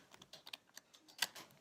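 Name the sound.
tarot cards being shuffled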